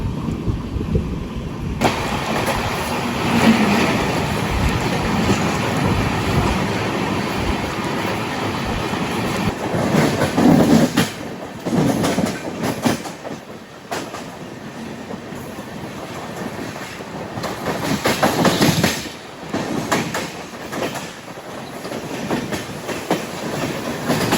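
A Netravati Express sleeper train from LTT to Thiruvananthapuram Central rolls along the rails with a continuous rumble and rhythmic clickety-clack, swelling louder in bursts as it runs.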